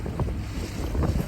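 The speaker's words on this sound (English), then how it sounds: "it's got a good wind coming down this river" Wind blows hard over choppy, white-capping water on the Tennessee River, a loud broad rush with gusty swells and low rumbling buffeting across the microphone.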